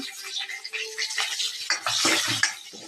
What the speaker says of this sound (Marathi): मिरची चांगली तळून घेऊ